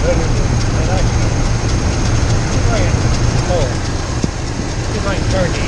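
A car engine idles close by at a steady low rumble of around 1,000 RPM, a continuous drone with faint mechanical ticking and brief voice-like sounds over it.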